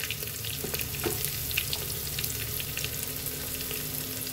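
Spices (garlic, turmeric, chili powder, coriander powder) frying in a pan for a gongura chicken curry, a close, steady sizzle with occasional stirring scrapes and no talking.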